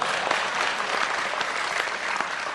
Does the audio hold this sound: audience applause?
yes